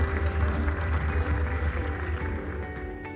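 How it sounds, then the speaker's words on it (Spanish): An audience in a hall gives steady, moderately faint applause to welcome a minister of Mexico's Supreme Court of Justice at a formal ceremony. The clapping stays even throughout with no voices on top. "Recibamos con un fuerte aplauso a nuestra ministra de la Suprema Corte de Justicia"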